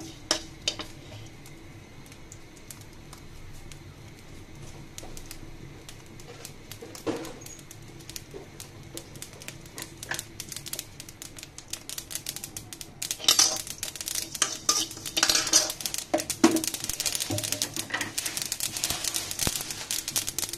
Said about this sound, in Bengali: পাঁচফোড়নটাকে ভালো মতো তেলে নিতে হবে।